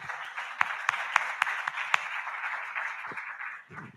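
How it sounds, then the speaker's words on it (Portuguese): Sunday church congregation applauding the Lord, a soft, somewhat distant patter of clapping with a few distinct louder claps early on, fading out toward the end. "Vamos aplaudir o Senhor?"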